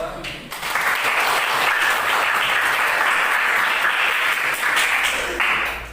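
Sustained applause from a room full of people, loud and dense for several seconds after a brief lead-in, fading slightly at the end during a school coaching session.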